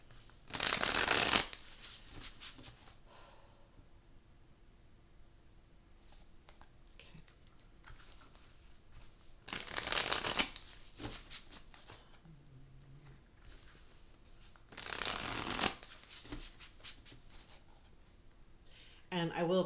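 Somnia Tarot cards are shuffled in three brisk riffling bursts, each about a second long and close by, with quieter stretches of soft handling and faint background sound between them.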